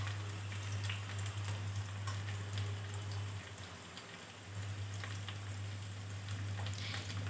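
Pumpkin and pumpkin leaves fry in a pan for sabji, giving a continuous soft, rain-like sizzle and crackle over a low steady hum, with no talking.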